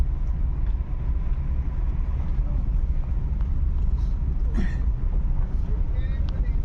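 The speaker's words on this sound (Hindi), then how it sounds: "अब हल्का सा एक्सीलेटर बढ़ा लो।" A car's engine runs at low revs during a driving lesson in heavy traffic, a steady close rumble with road and cabin noise throughout and no clear surge.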